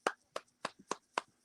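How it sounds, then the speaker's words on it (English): Slow, sparse handclaps from one or a few people at a comedy workshop, about five sharp claps evenly spaced, close and fairly quiet. "everybody, round of applause."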